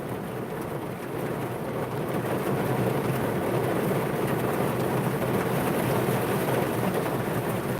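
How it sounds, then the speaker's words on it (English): Heavy rain drums steadily on a parked car, heard from inside as a dense, loud, continuous wash with a low rumble underneath and no talking. "I'm gonna wait till this rain cools down before I go"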